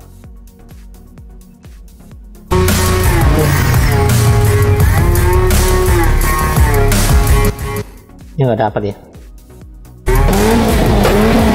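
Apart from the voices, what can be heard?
car engine sound effect for a game trailer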